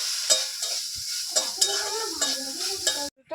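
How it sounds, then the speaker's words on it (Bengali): Meat seasoned with cumin powder and meat masala is stirred in a hot pan, with repeated scraping strokes over a continuous close sizzle, stopping abruptly at the end. "দেওয়ার পর ভালো করে নেড়ে চেড়ে নেবো।"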